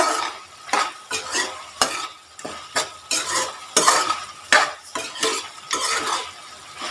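Repeated scraping strokes of a spoon stirring Chicken Chinthamani in a pan, rhythmic and close with a soft sizzle of frying underneath, no talking.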